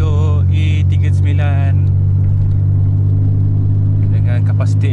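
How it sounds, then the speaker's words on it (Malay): A BMW E39 with a 3-litre engine and a straight-pipe exhaust idles and cruises with a deep, steady drone. The engine sound sits close and loud beneath someone talking. "Jom jalan-jalan sambil memanaskan enjin kereta saya yang dah lama tak gerak ni. So saya memandu kereta BMW E39"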